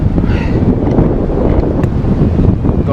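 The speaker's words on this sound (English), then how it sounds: "it is pretty windy out here" Strong mountain wind buffets the microphone during a speedwing paragliding flight with the wing accelerated, a loud, continuous low roar with rough gusting texture and no speech.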